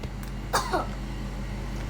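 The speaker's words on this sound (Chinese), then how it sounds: "你看你是不是咳嗽了？" A child coughs twice in quick succession after eating a whole bag of potato chips, close and fairly loud over a steady low indoor hum.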